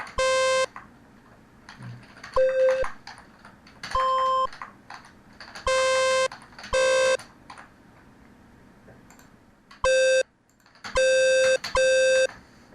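Bright, buzzy PICO-8 chiptune synth notes in short bursts, some sustained and some clipped, with brief pauses and a few quick blips between them.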